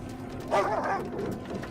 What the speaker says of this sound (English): They're either very good dogs or they're starving.